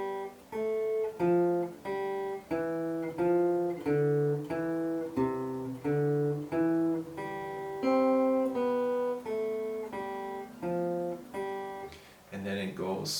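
A jazz guitar plays a scale exercise as a steady run of single plucked notes, clear and close, each note ringing briefly before the next, with no talking over it.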